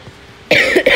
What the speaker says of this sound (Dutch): Elke keer als ik hoest zeg ik wel sorry.